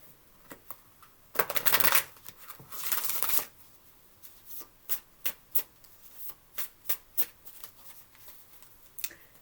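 Close tarot cards shuffle in two long riffling bursts, followed by a steady series of crisp, evenly spaced card taps and flicks.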